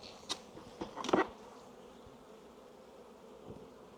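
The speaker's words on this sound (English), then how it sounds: "Lots of bees trying to get through." Faint buzzing of bees around a hive, with a few short louder passes close by over a steady low hum.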